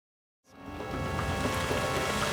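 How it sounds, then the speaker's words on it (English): Heavy rain pouring down in a rainforest, starting abruptly after a brief silence and then holding as a dense, steady wash of noise, close and loud with no voices. "So we just followed the track through the pouring rain"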